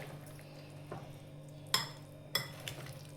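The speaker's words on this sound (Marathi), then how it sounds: "आता ते चांगलं मिक्स करून आपण तो 10 मिनिटं मॅरिनेट करण्यासाठी ठेवूया" A spoon stirs and mixes a masala marinade with garam masala in a bowl, giving faint soft scraping and two sharp clinks against the vessel, close and quiet with no talking.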